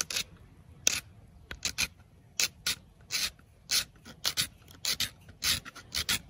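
A flint end scraper, held without a handle, shaves curls off a piece of wood in a run of short, crisp rasping strokes in an irregular rhythm, close and fairly quiet, with no talking.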